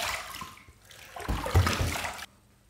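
Water runs from a tap for rinsing after a shave, a short gush of about a second that swells and then cuts off abruptly, heard alone.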